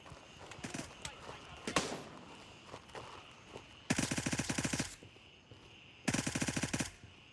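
Two long, rapid bursts of automatic gunfire empty whole magazines in the shooter game Gray Zone Warfare, loud and close against steady high wind noise, with a person talking between the bursts.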